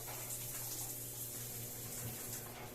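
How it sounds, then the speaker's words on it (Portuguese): A Hydra Star turbo shower runs steadily with its water pressurizer switched on, giving an even, full hiss of spraying water that stays loud and unbroken throughout, with a low pump hum underneath and no talking. "Agora o pressurizador está ligado, já tem um volume de água muito melhor."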